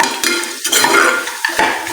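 Poppy seeds fry in a pan as a spoon stirs them, giving quick metallic scrapes and clinks against the pan over a faint sizzle, close and fairly loud, with no one talking.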